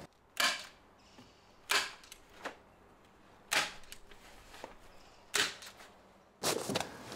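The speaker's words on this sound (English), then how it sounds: "I need to trim back the membrane and get it stapled around the frame" A staple gun fires repeatedly while membrane is stapled around a wooden workshop door frame, five sharp clacks spaced a second or two apart, each with a short trailing rattle, fairly close and without speech.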